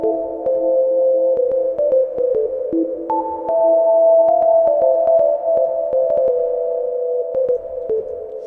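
Sustained, layered synthesizer oscillator tones glide between pitches with a washy reverb tail and low cut, punctuated by sharp clicking transients throughout.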